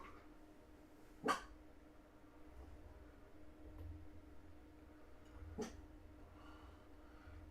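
Two sharp, isolated dog barks several seconds apart, somewhat distant, over a quiet low background hum.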